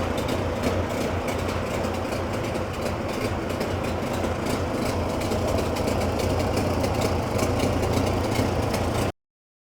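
A freshly overhauled Yamaha 30A outboard motor runs steadily at a constant idle, a loud, even mechanical drone that holds unchanged throughout before cutting off abruptly at the end.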